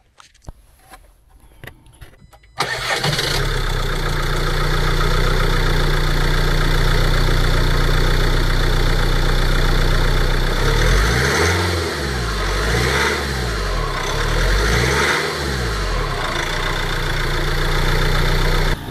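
A camper van's engine starts after a sport air filter is fitted, then settles into a loud, steady idle that lasts throughout, with a few gentle rises and falls in engine pitch toward the end.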